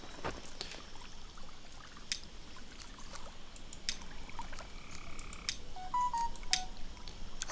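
Short electronic phone notification tones, a few quick beeps near the end, sounding faintly over a continuous outdoor ambience with scattered clicks and croak-like noises.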